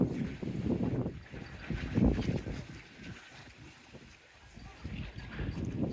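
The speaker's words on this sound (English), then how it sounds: "Windy, windy." Gusty wind at a seaside spot rumbles loudly across the microphone, surging and easing throughout in a steady low roar.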